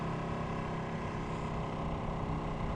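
A 2016 Ducati 959 Panigale sport motorcycle engine gives a steady, loud drone with a throaty low rumble, running continuously at a fairly constant pitch, heard up close.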